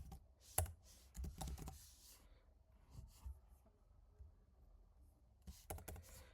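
Typing on a computer keyboard in quick bursts of soft clicks separated by pauses, close and quiet with no talking.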